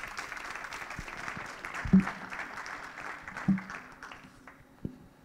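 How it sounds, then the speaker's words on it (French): Faint, diffuse applause from a seated audience after a talk at a small-business conference, steady and somewhat distant with a few louder thumps, under a low murmur of room noise. "Ouais, on peut l'applaudir."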